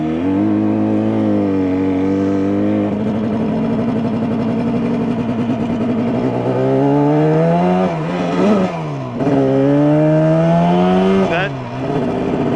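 A two-stroke engine revs hard and close, its raspy note climbing and holding with harmonics, dipping twice briefly before snapping back up to high RPM.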